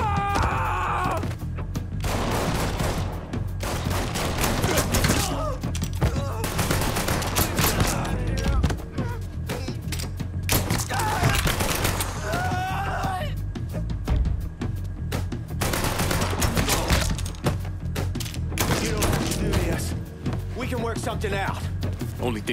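Sustained gunfire volleys from Mafia III, dense bursts of shots and thumps filling the scene, with shouted voices and groans over the shooting throughout.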